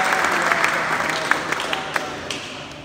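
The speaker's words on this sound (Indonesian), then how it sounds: "Kasih tepuk tangan dulu." A church congregation at an ecumenical service in Semarang claps together in a lively burst, with several crisp individual claps near the microphone and faint voices murmuring underneath.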